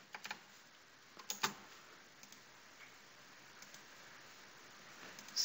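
Soft, sparse taps on a computer keyboard in a quiet room, a few isolated key clicks scattered across several seconds with faint background hiss.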